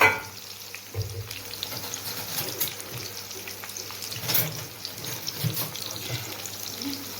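Onions fry in hot oil for Egyptian koshari, a quiet, continuous crackle and hiss with some stirring and wet sounds, while a voice speaks faintly over it.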